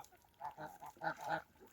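Several nasal geese honks come in quick, uneven bursts, fairly quiet and a little distant.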